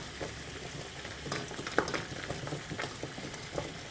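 Water bubbling and sizzling in a pot on the stove as a double-boiler setup melts homemade body butter, with steady popping and crackling close up.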